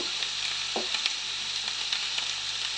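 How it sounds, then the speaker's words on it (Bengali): A steady, loud sizzle of onion paste frying in hot oil, with a few faint stirring scrapes. "পেঁয়াজের কালি আবার ভাজা হবে এখন"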